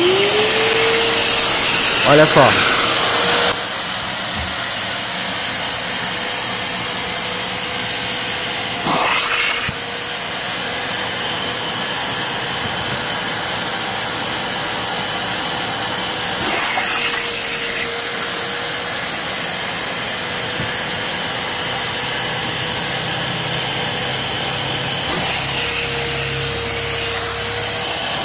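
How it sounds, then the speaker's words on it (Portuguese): An upholstery extractor vacuum sucking up water during upholstery cleaning runs with a loud, steady whine and hiss, broken by a few sharp clicks as it is switched, with brief talk over it. "agora a gente vai ligar o aspirador para puxar água."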